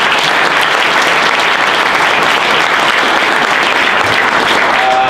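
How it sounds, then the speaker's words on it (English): Dense, sustained applause from an audience fills the room at a health technology launch event, loud and continuous throughout with no break. "So first, please applaud them."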